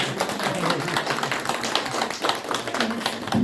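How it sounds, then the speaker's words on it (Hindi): Audience at a school function claps steadily, a dense, continuous patter of many hands that holds at an even level throughout, with some voices faintly mixed in. "जोरदार तालियों से स्वागत कीजिएगा।"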